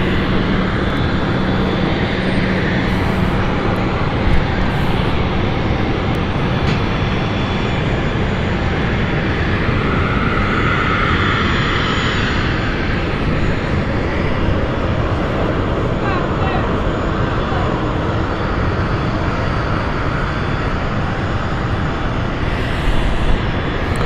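Steady, loud aircraft engine roar at London City Airport, a dense continuous drone holding near and constant throughout, with a voice talking over it.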